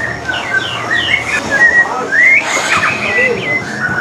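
A white-rumped shama (murai batu) songbird sings close by in a relaxed series of clear whistled phrases and short chirps, loud and continuous against a faint background.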